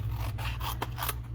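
Scissors snip through paper while cutting out a small paper typewriter shape for a handmade card, giving a few quick close scrapes and snips with no talking.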